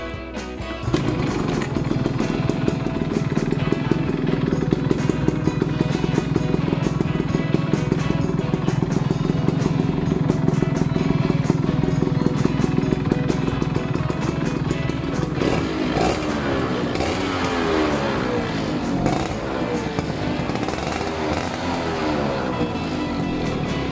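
An old Yamaha F1 two-stroke motorcycle engine runs at a steady idle close by, with a buzzy, slightly rough tone that carries on without a break.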